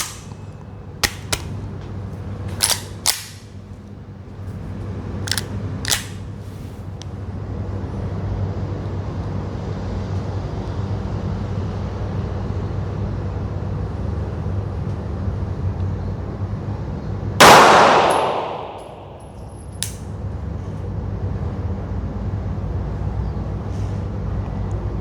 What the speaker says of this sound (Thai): บรรจุกระสุนเรียบร้อยนะครับ2นัดนะสำหรับซิกพีสามหกห้านะ ตัวนี้นะครับ ปืนผมเองเดี๋ยวทดสอบดูครับ